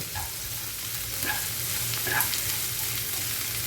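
Plenty of chopped onions frying in a pan, a continuous soft sizzle with occasional light stirring clicks, heard alone without speech.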